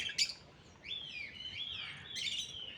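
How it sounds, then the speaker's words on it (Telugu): High, scratchy calls of small parrots at a zoo ring out in short bursts and longer squawks, with a couple of small birds calling close by against a quiet background. "చూసారా ఈ ప్యారెట్స్ చిన్నవి అంటే ఇవి రెండో జాతి పక్షులు"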